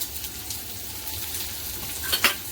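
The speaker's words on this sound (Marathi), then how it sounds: "त्यांच्यामध्ये टाकूया कढीपत्ते जास्त आता लालसर नाही करायचा फक्त एक दोन मिनटं फ्राय करायचं आहे" Curry leaves fry in hot oil in a pan for a masala dosa filling, giving a soft continuous sizzle with a few sharper crackles near the end.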